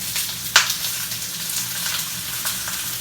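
Ground cumin toasting in a hot pan with peppers and onions, a steady close sizzle with one sharp hiss flaring near the start, no talking.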